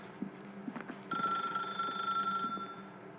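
An old-style telephone bell rings inside the video game The Stanley Parable, a loud sustained ring that starts abruptly after a few soft footstep-like taps and carries on alone.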